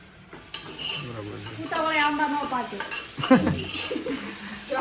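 Spices sizzle in hot oil for tempering rice, under a background of stirring and clinking, with faint voices in the mix.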